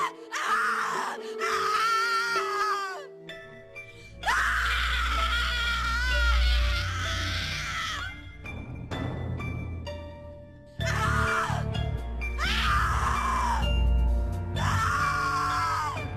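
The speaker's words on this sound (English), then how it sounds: "Your scream is like a poem without words." A victim screams in The Cat Lady video game, with long anguished wails in two drawn-out bursts separated by a quieter passage. Low droning music runs underneath.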